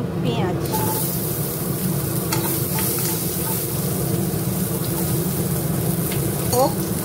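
Onions sizzle loudly in a pan for a momo soup, a dense and constant frying hiss that runs throughout, with a faint brief clink now and then and no clear talk.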